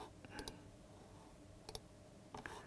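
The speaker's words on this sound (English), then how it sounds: "the way you can do that is by right clicking and delete track" Several quick mouse clicks, including a right-click, sound faintly at a computer while a Pro Tools audio track is being deleted. They come as sharp little ticks in a few separate bursts over a soft background hiss.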